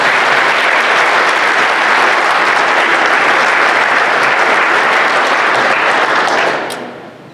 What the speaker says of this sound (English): I just want to ask you to join me in a small round of applause for those men.